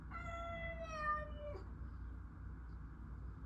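A house cat gives one drawn-out, wavering meow close by in a quiet room, then falls silent while faint background hiss continues.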